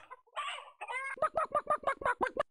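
Chicken in a pirate-ship video game: a few drawn-out squawks followed by a rapid, rhythmic run of about eight sharp clucks, close and clear with no voices over it.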